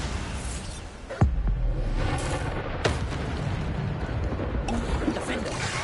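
A Bombarda spell blast in Hogwarts Legacy goes off as a single sharp, loud boom with rumbling tail, followed by smaller crackling impacts amid ongoing game noise.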